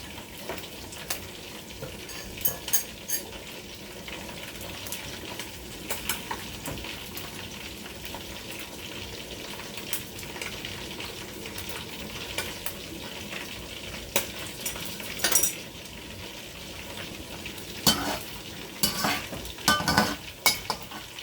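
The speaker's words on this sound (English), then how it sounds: "I'm going to fry my egg with it" An egg fries in oil in a pan on the stove, giving a steady close sizzle throughout, with scattered scraping and clinks from a utensil, and no talking.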